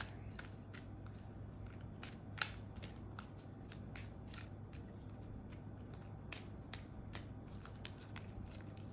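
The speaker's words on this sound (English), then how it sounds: "I'm going to pull a Soul's Journey lesson card for you." Tarot cards being shuffled by hand, a steady stream of rapid crisp riffles and flicks close up, with a few sharper snaps as cards are pulled, and almost no talk.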